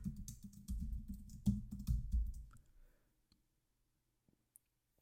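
Fast typing on a computer keyboard while entering a username, email address and password, a close, quick run of key clicks for about three seconds, followed by a few isolated taps in near silence.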